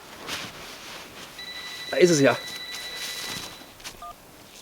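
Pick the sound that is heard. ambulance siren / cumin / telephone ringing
telephone ringing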